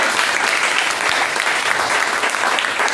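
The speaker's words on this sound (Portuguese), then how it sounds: "Vamos aplaudir ao Senhor Jesus?" Dense, steady applause from a church congregation at a healing service, loud and sustained throughout without a break.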